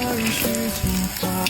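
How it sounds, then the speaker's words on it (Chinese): Coarsely chopped peanuts fry in hot oil in a wok, giving a steady, dense sizzle throughout with tonal scraping of a spatula stirring underneath. "花生碎切好了，咱现在开始下锅炒。"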